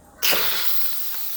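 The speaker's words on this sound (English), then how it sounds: "Now I'm releasing the rest of the steam." Steam releasing from a pressure cooker that has just cooked baked potatoes, a sudden sustained hiss that starts abruptly and stays steady and close for the whole moment.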